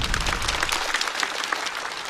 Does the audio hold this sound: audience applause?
yes